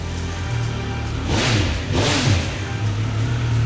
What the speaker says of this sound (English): introduce us to that awesome new sound